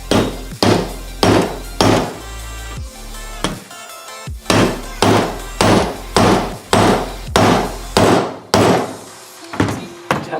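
Hammer tapping on a socket to drive out a U-joint from a Dodge Raider in a driveway, about a dozen loud, close metallic knocks in a steady rhythm with a short pause partway through.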